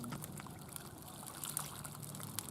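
Water poured into a pond stocked with fish, a soft steady trickle and dribble running throughout at low level, with faint splashes and no talk.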